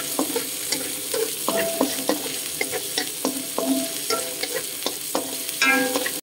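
Garlic and onion sauté in a pan for mixed vegetables in coconut milk with mackerel, a steady sizzle broken by repeated scraping stirs and spoon clinks, close and fairly loud, with no one talking.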